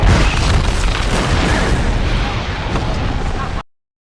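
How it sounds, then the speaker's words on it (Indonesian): A loud, sustained explosion as the ship Interceptor blows up in a pirate film, a dense rumbling blast filling about three and a half seconds before cutting off abruptly. "Lalu meledaklah kapal Interceptor itu."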